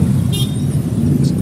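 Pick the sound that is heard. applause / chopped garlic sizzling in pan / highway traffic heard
highway traffic heard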